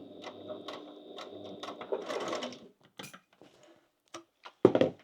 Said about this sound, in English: Now we're going to sew the top couple of inches again and box that.